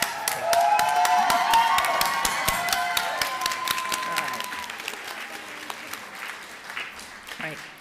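At a commencement ceremony, an audience bursts into loud, sustained applause with whistles and whoops. The clapping fades gradually over several seconds as it dies down.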